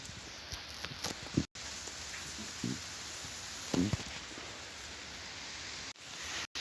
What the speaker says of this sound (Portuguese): eu desculpo do barulho porque tá chovendo aqui